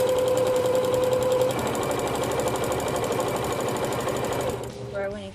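A sewing machine stitches fabric for mug rugs in a fast, steady mechanical run of needle strokes, close and loud, then slows and stops near the end.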